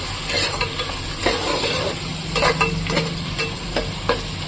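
Tomatoes sautéing with curry leaves in a pan for a drumstick and mushroom curry with milk, giving a steady close sizzle with repeated scrapes of a spoon stirring through it and no talking.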